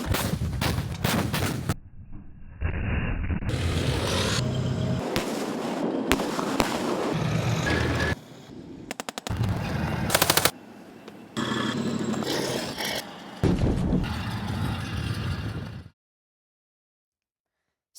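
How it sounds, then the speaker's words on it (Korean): Live-fire combined-arms gunfire from an army armored brigade: loud, repeated blasts and rapid bursts of shots, with short gaps between volleys and sharp cracks echoing across an open range. "육군 5기갑 여단 장병들이 제병협동 전투사격에 진수를"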